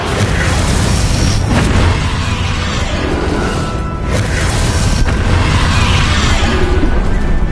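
A Descendo spell cast in Hogwarts Legacy lands with a loud, dense booming impact, a continuous roaring blast of crashing bursts with no pause.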